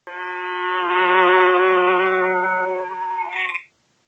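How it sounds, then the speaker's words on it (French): A close, droning buzz of a drone bee, rich and steady, swelling slightly before trailing off abruptly after a few seconds. "un bourdonnement sourd se fit entendre."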